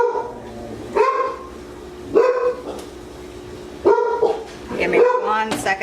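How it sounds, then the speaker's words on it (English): Dogs barking in a home kitchen, four loud bursts of barks spaced a second or two apart, the last run denser and yappier, close and clear with no talk over them. "And listen to the dogs bark."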